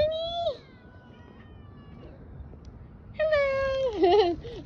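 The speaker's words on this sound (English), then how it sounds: "there's a kitty right there" A cat meows close by, one drawn-out meow followed later by a longer, wavering cry, with a person talking softly in between.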